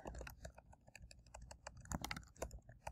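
Quiet, rapid typing on a computer keyboard, with irregular bursts of key clacks and no talking.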